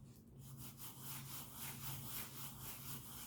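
Steady scraping rub of a hand pressing a glued paper flap flat on a die-cut handbag, soft continuous friction in short repeated strokes, close and quiet.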